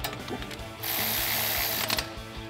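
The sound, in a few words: ratchet with socket tightening bracket bolts on a truck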